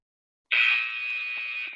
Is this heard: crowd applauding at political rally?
no